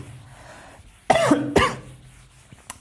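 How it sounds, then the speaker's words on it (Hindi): Two harsh, close coughs from a man who is unwell and coughing repeatedly, sounding loud and separate with a short pause between them, then a faint click and quiet room tone. "इसके लिए खांसी आ रही है मुझे बार बार"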